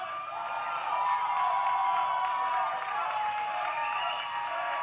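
A wrestling crowd at an OVW show cheering for wrestler Peso, a steady wash of distant crowd roar and cheers sustained throughout without a clear break.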